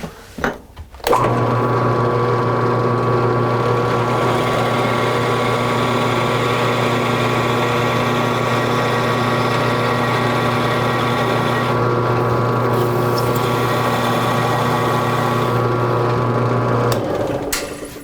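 Drilling a hole in a wooden wand handle on a lathe, a loud steady motor drone with a constant pitched hum running continuously for about sixteen seconds, starting and stopping abruptly, with no talk.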